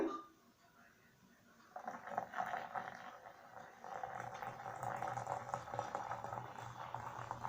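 Water poured into a drain treated with cleaning granules, a steady close gurgling rush that starts after a brief quiet moment and keeps on at low volume, no talk.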